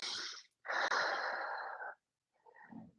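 Deep breaths drawn during a yoga stretch for runners, a long breathy inhale after a shorter one, close and fairly loud, then a faint softer breath at the end.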